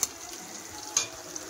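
Meat and onions sizzle in hot frying oil, a soft steady crackle with two brighter hisses, one at the start and another about a second later.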